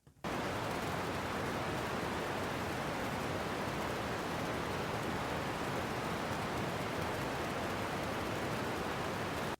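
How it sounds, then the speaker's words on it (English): Simulated methane rain falls on Titan at about 21 mm per hour, a dense, even hiss of steady rainfall that starts abruptly, holds constant and stops abruptly, with no talking. "This is about 21 millimeters per hour. So significantly less rain than what we were hearing before."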